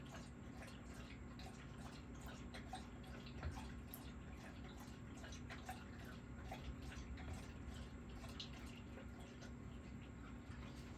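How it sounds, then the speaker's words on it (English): Quiet, steady lapping and splashing of a dog drinking water from a dish, small wet clicks repeating irregularly with no talking. "it's a dog drinking water out of the dish"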